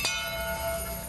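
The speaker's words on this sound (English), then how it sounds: "bells tolled at the protest campsite a mile from the president's ranch" A church bell tolls at an anti-war protest campsite a mile from the president's ranch, one struck note ringing out and sustaining as a long, steady hum.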